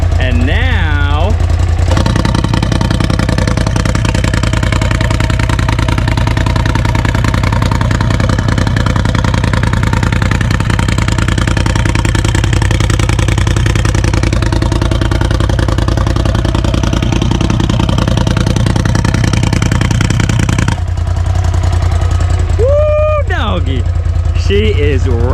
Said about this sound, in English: stock exhaust is what the exhaust is flowing through. I got the valve closed